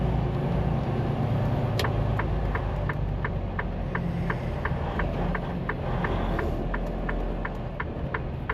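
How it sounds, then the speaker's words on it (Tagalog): Dense highway traffic crawling bumper to bumper on I-285 in Atlanta, a steady loud rumble of engines and road noise with a regular series of faint ticking clicks running over it, no voices. "Grabe ang traffic dito."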